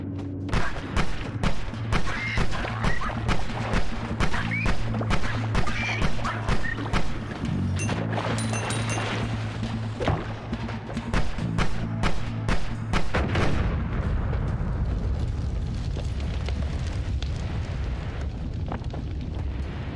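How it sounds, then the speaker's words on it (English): Explosions rumble and boom throughout a Noita game session, dense repeated blasts in a fast rhythm over a low droning backdrop, then a heavier continuous roaring wash of detonations in the final seconds; loud and close. "Big kaboom."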